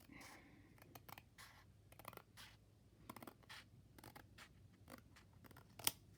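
Paper trimmed with scissors for an altered mailer envelope, a series of quiet, close snips and short cutting strokes in an irregular rhythm, with no talking.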